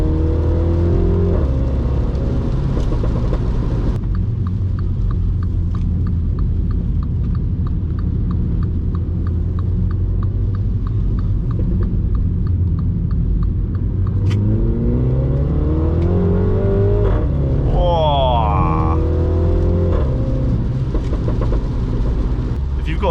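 A Mini John Cooper Works engine revs hard through the gears on ice and snow, rising and falling in pitch as it accelerates, loud and close with steady road and wind noise underneath.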